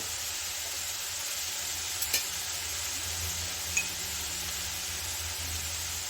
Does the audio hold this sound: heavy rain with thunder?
no